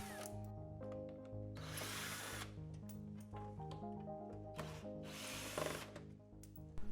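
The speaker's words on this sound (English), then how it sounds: "Start by taking out the inner fender well screws with a 7mm socket." A power driver with a 7mm socket whirs in repeated bursts removing car inner fender well screws, spinning up and stopping between pauses, with mechanical rattling close by.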